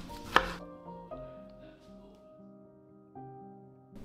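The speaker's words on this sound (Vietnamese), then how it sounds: "Và bây giờ mình sẽ cắt cho nó nhỏ ra, khoảng 5-7mm gì đó." A knife chops peeled tomatoes into small 5–7 mm pieces on a cutting board: a few crisp, separate knocks with quiet pauses between them, close and clear.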